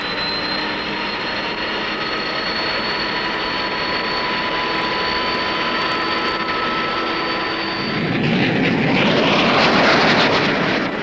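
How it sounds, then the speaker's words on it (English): A Banshee jet on the flight deck of the carrier HMCS Bonaventure holds a steady high-pitched engine whine, then bursts into a louder, roaring surge as it launches for takeoff. "After a final check by the pilot, the flight deck officer gives the signal for takeoff."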